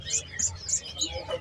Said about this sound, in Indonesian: Udah pada bunyi-bunyi ya teman-teman ya. Cucak kembangnya nih.